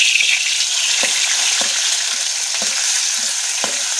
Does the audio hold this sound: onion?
yes